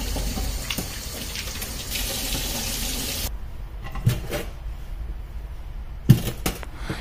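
Water running from a kitchen tap while hands are washed at the sink during cooking preparation, a steady splashing flow that cuts off partway, followed by a few quiet knocks and a sharper clack.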